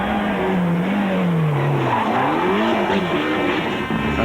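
A rally car at the 1993 Boucles de Spa, struggling with a steering problem, goes off the road with a loud continuous engine roar and tyre skidding, shifting pitch as it slides.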